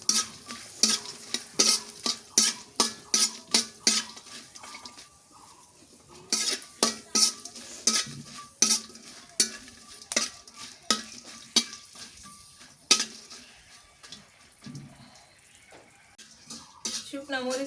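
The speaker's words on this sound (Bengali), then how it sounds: "আস্ত রসুন শুকনা মরিচ ভেজে নিই" Whole garlic cloves and dried red chillies frying in hot oil in a home kitchen, with repeated sharp scraping stirs and crackling sizzle, close and moderately loud, pausing briefly midway before the rhythmic stirring resumes.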